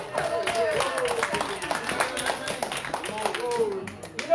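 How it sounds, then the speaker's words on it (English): Congregation giving a hand clap of praise at a church service, lively rhythmic clapping close by, mixed with voices and shouts. "Let's just give him a hand clap of praise"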